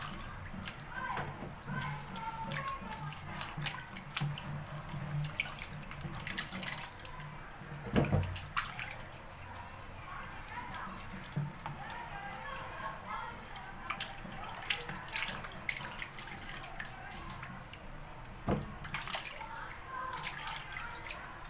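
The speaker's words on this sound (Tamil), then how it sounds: "நல்லா தேய்ச்சி கழுவுங்க." Tap water runs and splashes as vegetables bought at a market are rubbed and washed in a sink or basin, with continuous flowing water, scattered drips and clatter, and a voice speaking at times.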